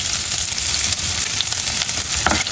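Garlic fries in hot oil for a Bengali tomato fish curry, a steady bright sizzle and crackle, close and continuous, with a few soft stirring scrapes and no voices.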